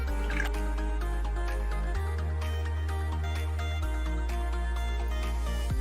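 Water is poured from a jug into a cooking pot of soaked chickpeas for lahori chana on a medium flame, a steady close liquid flow with dripping, bubbling tones throughout and no talk.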